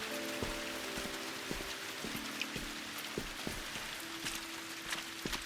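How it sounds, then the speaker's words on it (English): Rain falls steadily on a surface in a continuous broadband patter, with occasional sharper drip-like ticks and a faint low tone running underneath. "But the rain's back out,"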